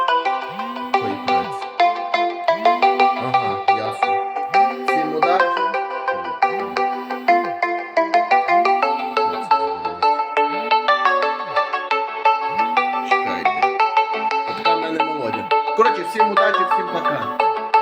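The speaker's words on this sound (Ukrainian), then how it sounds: "хтось дзвонить" A phone ringtone plays a repeating electronic melody loudly and steadily, looping over and over without pause.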